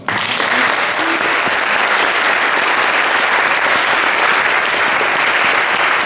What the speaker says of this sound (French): je vais vous demander encore d'applaudir une fois pour nos trois intervenants